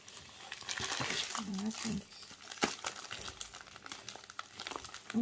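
Plastic packaging of a diamond painting kit crinkles and crackles in close, irregular bursts as someone struggles to open it. Quiet speech is heard at times.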